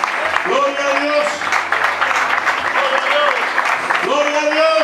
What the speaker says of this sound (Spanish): Ahora denle un aplauso bien fuerte al Señor